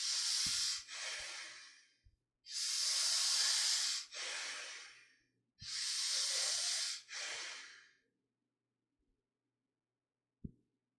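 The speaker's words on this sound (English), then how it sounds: "But you're doing the breathing little faster." Fast yogic breathing exercise: three forceful, loud breath cycles, each a long rushing inhale and exhale with sharp airy hiss, followed by near silence and a faint click.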